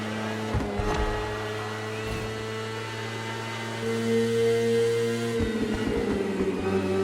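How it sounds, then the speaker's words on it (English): A BMW S1000RR superbike engine in The Crew Motorfest video game drones at a steady pitch, then shifts and rises partway through, loud and continuous with no talk. "The one you're riding is the S1000RR. It's what we call a superbike."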